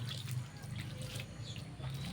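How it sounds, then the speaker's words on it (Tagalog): Water pours and trickles steadily into a gestating pig feed mix, a quiet continuous liquid splash and dribble with no speech. "isang kilo yung nilagay natin na tubig"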